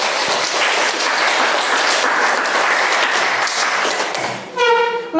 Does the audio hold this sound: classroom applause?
yes